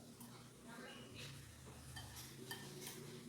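Wheat flour being stirred into eggless banana jaggery cake batter in a bowl, a faint soft scraping and swishing with occasional light clinks of the spoon against the bowl, close by and quiet.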